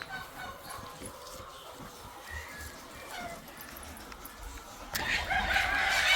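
Roosters crow and chickens cluck in a backyard poultry coop, faint and somewhat distant over steady outdoor background noise that grows louder toward the end.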